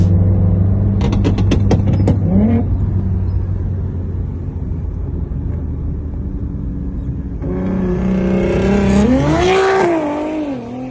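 A lightened race car engine revs hard in sharp bursts, settles into a rough idle rumble, then climbs and wails through another loud rev.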